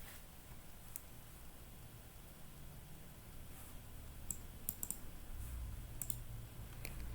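Keyboard arrow keys pressed to steer a plane in a simple 2D game, producing scattered light clicks, some in quick pairs, over a low steady hum of computer noise.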